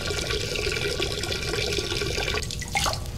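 Water runs steadily in Duke Nukem Forever, a continuous splashing rush like a tap or sink filling, with a few brief clinks and drips near the end.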